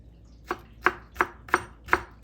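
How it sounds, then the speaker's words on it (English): A sharp knife chops garlic on a chopping board in five crisp, evenly spaced knocks, close and clear over a quiet background. "Okay, I will show you when I finish chopping the garlic."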